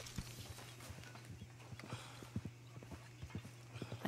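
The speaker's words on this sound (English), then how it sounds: "I hear my horse, I don't see it." Horse hooves clip-clopping in the Red Dead Redemption 2 video game, irregular soft hoofbeats over a low steady hum, fairly faint, with a possible brief whinny.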